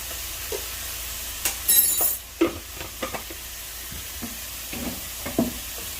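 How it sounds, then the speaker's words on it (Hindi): Masala cooks in a pan with a soft, steady sizzle, broken by a few light stirring scrapes and taps, fairly quiet and close with no voices. "बस अभी इसको पकने देंगे थोड़ा"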